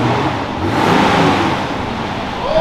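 A supercharged car engine, just finished in a fabrication shop, runs with a steady, loud rumble that swells as it revs, continuous for the whole stretch with no talk.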